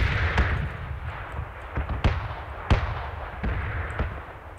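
Repeated explosion blasts go off in PlayerUnknown's Battlegrounds, sharp bangs at irregular intervals over a constant rumbling, noisy background.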